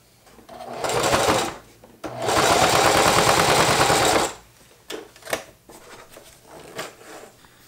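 A Singer HD sewing machine fitted with a Teflon foot stitches leather in two loud, close bursts of rapid needle clatter. Quieter clicks and handling knocks follow.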